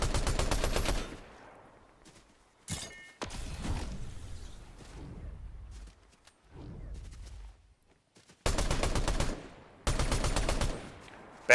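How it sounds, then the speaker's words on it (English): Fortnite gunfire from a legendary assault rifle and shotgun during a competitive match: rapid automatic bursts open and close the stretch, with scattered single blasts, thuds and whooshes in between. "Creative Pangy, hot pursuit here with both legendary AR and shotgun."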